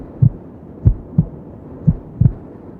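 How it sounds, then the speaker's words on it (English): A human heartbeat thumps five times in under three seconds, with low, soft, muffled beats in an uneven lub-dub rhythm, one close double beat near the end, over a faint steady hiss with no voices. "That's the sound of a heartbeat."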